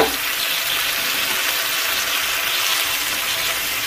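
Drumstick leaves with green chillies hit a hot pan and fry with a steady, loud, close sizzle that continues without a break.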